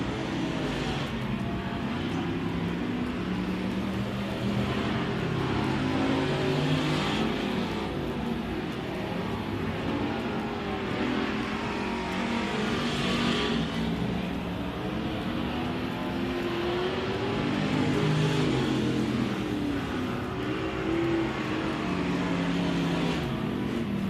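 USRA factory stock cars run hot laps at Big O Speedway, a continuous layered drone of several engines rising and falling in waves as the pack circles the dirt track, heard from a distance.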